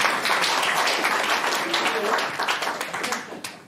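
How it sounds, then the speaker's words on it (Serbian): Applause at a Rotary gathering honoring business representatives, company owners and media, a dense wash of clapping filling the room, steady throughout and thinning slightly toward the end. "aj molim aplauz za njih"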